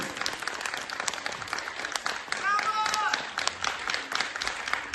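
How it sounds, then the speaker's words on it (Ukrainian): A school concert audience gives loud applause ahead of a performance by a children's vocal ensemble, dense steady clapping filling the whole stretch, with a brief tonal sound rising midway. "Ваші гучні оплески"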